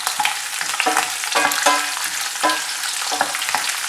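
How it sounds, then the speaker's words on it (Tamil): Small shallots and plenty of garlic sauté in a pan, giving a loud, close, continuous sizzle broken by sharp bursts of stirring and scraping. "சின்ன வெங்காயம் பூண்டும் நல்லா குக் ஆகணும்"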